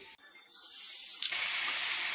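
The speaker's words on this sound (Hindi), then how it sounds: "अब इसमें पानी डाल देंगे" Water pours into a pan of vermicelli pulao with masala and salt, a hissing, splashing rush that starts after a brief pause and runs on steadily and close by.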